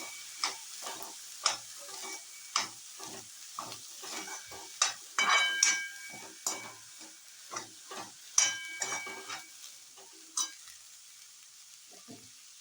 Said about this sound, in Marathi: आणि मग हे शिजवलेले हरभरे याच्यात घालायचे आहे आणि चांगलं मिक्स करून घ्यायचं आहे.